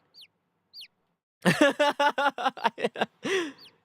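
Birds clucking in The Great Ace Attorney game: two faint high chirps, then a quick run of about ten loud, close clucks in a steady rhythm ending with a longer squawk.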